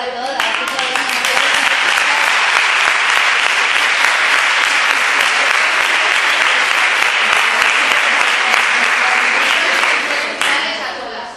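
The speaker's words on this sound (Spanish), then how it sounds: "un aplauso para todas" Audience at a talk on romantic love and gender-violence prevention gives loud, dense, continuous applause that holds steady before tapering off near the end.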